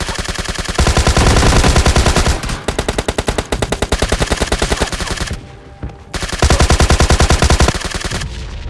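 Rapid automatic gunfire in PUBG Mobile Lite, loud close bursts of rattling shots that pause briefly twice before resuming, with no talk over them.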